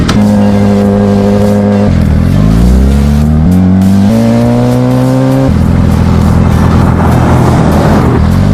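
A loud pickup truck engine roars and revs close by, pitch climbing through gear changes and dropping between shifts, continuous throughout.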